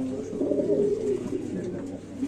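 White bar modern pigeons cooing steadily close by, a soft continuous run of low throaty coos at moderate volume with no talk over them.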